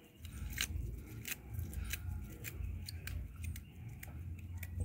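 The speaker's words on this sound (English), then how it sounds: "Cut up the scallion." Scallions being cut up with scissors, a quick irregular series of close crisp snips over a low kitchen rumble.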